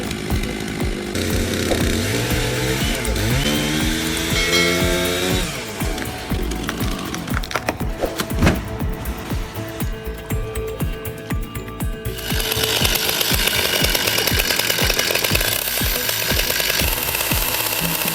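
A chainsaw roars loudly and continuously while cutting trees, its engine pitch rising and falling as it cuts, with machinery noise throughout.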